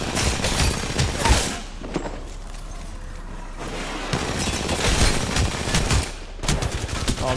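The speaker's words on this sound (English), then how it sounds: "they're both shooting me through the fence" Gunfire through a fence in the video game Apex Legends, clusters of rapid loud shots with a quieter stretch in between, then more bursts resuming near the end.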